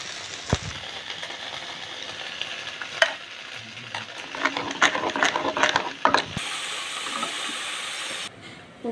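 Cooked dal for tomato dal being mashed by hand in a pot, a steady run of wet scraping and squelching strokes with a few sharper knocks of the utensil against the vessel.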